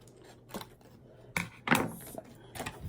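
An old trimmer blade for an X-Acto paper trimmer slides and cuts paper in a few short scraping strokes, with the strongest stroke near the middle and softer ones at the start and end, close up with no talk.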